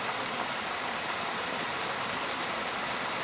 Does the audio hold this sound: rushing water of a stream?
yes